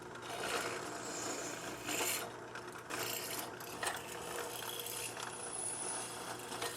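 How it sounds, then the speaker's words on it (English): A drill press chain drilling a thick copper tube sheet for a model steam boiler, producing a faint continuous mechanical grinding and scraping with a low motor hum under it and small metallic clicks. "These tube sheets are pretty thick, so I just set it up on the drill press and chain drilled it out."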